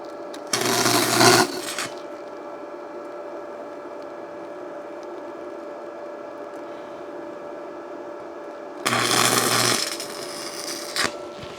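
Two short bursts of crackling stick welding, one early and one near the end, while repairing a hole in an exhaust pipe, separated by a steady background hum.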